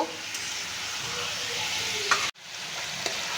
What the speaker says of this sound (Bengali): লবণ আর হলুদ মাখানো হয়ে গেছে, এখন সুন্দর করে ভেজে নেব।